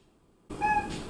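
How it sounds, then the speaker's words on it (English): A single short cat meow, close and clear, rising out of near silence. "thank you, Toodles, for that warm welcome with your lovely meows"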